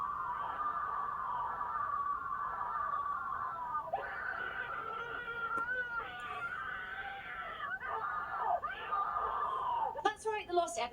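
Shrill, wavering screams from a creepy lost cartoon episode rise and fall repeatedly amid dissonant sounds, with a sharp burst of cries near the end.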